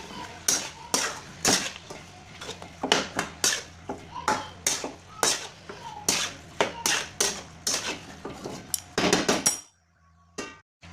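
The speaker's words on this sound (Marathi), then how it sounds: "आपल्याला आता हे चिकनचे पीस जे आहेत ते टाकून घ्यायचे आणि छान असं मिक्स करून घ्यायचं" Chicken pieces tossed and stirred in a pan, heard as a rapid series of loud, close metallic scrapes and clanks from a spoon against the pan, then a sudden stop into near quiet.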